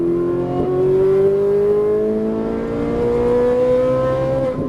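A Ferrari 458 Italia powers out of a corner on a track, its engine note climbing steadily in one continuous loud rising pull.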